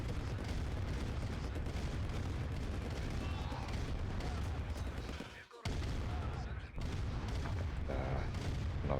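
Tank battle gunfire from Command & Conquer: Red Alert Remastered, fought in an ore patch: a dense, continuous barrage of cannon booms and explosions with a brief drop near the middle, loud throughout.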